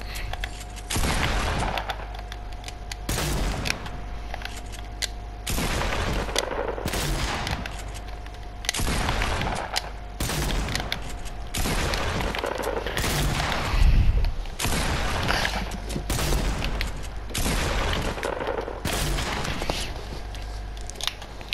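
Shotgun fire in a video game, loud close blasts repeating in an irregular rapid series across the whole stretch, with brief gaps between volleys.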